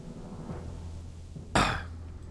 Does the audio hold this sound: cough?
yes